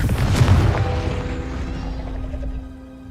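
A Confringo blasting spell explosion in a Harry Potter game, a loud booming burst up front that rumbles and slowly fades over a few seconds.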